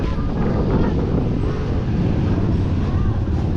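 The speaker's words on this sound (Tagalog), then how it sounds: "Malakas ng hangin." Steady, roaring wind buffets the microphone with a dense low rumble that holds at the same loudness throughout, with no pauses or gusts dropping away.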